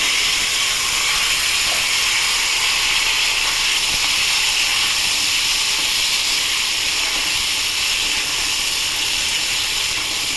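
Hot oil hisses and crackles continuously as cut potato and taro fry, a steady loud sizzle with faint popping throughout.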